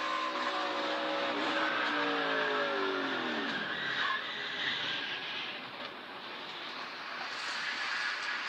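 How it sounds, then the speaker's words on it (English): A NASCAR Xfinity race car slides a long way at Talladega during a multi-car crash. A long, loud tire squeal with falling pitch rides over dense engine roar, then settles into a sustained rushing racing noise. "Austin Hill on board. He's sliding for a long time here. Oh, he gets hit from behind there at the end."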